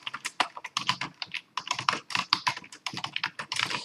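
Rapid, steady typing on a computer keyboard while notes are taken, dense bursts of crisp key clicks with brief gaps, close and loud, no voices.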